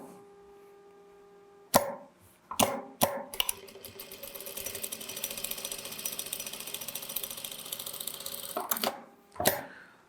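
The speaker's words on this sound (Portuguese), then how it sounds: "Viro e vou passar uma costura em cima da linha feita." A sewing machine stitches a patchwork seam: a few sharp mechanical clunks, then a rapid, steady run of stitching for several seconds, then more clunks and a final thump. It is close up, with no talking.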